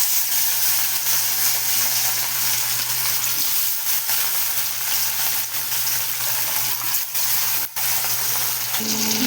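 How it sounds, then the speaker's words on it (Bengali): Fish sizzles in hot oil in a heated wok, a loud continuous close crackle with a steady low hum beneath and a few brief sharp spits. "কড়াইটা গরম হয়ে গেছে, এখন মাছটা দিয়ে দেবো।"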